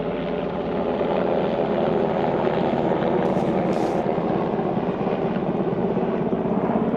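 A helicopter drones steadily overhead, heard from a fishing spot on the water as a constant, even rotor-and-engine roar with no talk.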